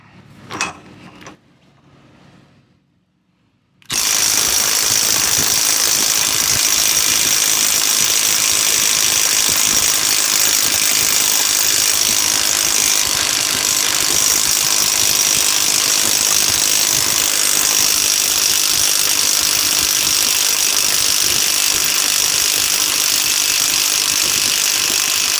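A Dewalt ATOMIC 20V MAX 1/2 in. cordless impact wrench (DCF921B) on a fully charged battery hammers continuously and loudly for over twenty seconds after a few quiet knocks, its rapid rattling impacts steady and close.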